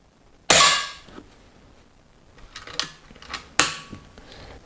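A Weihrauch HW100 air rifle fires lead-free pellets in two sharp, loud cracks about three seconds apart, with fainter mechanical clicks and handling noises between them.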